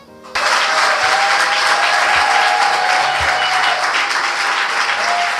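Wedding guests at an official civil marriage ceremony in Pointe-Noire break into loud, sustained applause and cheering that starts abruptly and fills the room without letup.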